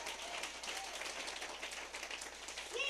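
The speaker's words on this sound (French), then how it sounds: "Donnez-moi une acclamation pour Frère Merchi qui vous bénisse." Congregation applauding at a local church assembly, a steady dense wash of many hands clapping throughout, fairly far and even, with no talk over it.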